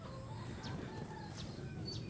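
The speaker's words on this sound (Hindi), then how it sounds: "दूर से मुर्गा बोल रहे हैं" A rooster crows far off in a rural village, faint and thin over a quiet background hum, with a few short calls.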